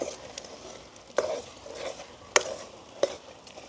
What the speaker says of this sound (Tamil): நாங்கள் இப்படி தொடர்ந்து கிண்டி கொண்டு வேணும் அந்த எண்ணெய் தனியாக பிரிஞ்சு வரும் வரைக்கும்